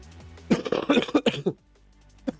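A person coughs in a quick, rough burst of several harsh hacks, followed by a short pause and one more small cough, fairly close and clear with no talk over it.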